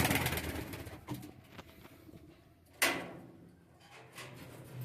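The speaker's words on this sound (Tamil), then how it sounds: "இன்றைக்கி நம்ம முதல்ல ஒரு ஜோடி புறா கொண்டு வந்துட்டோம்." Pair of pigeons in a newly built home pigeon cage, cooing softly, with a sharp knock or cage-door clatter midway and faint rustling throughout.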